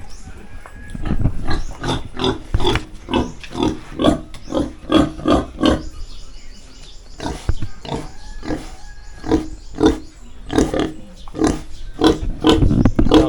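A large pig grunts repeatedly in close, loud, rhythmic bursts, one after another, with faint background voices now and then.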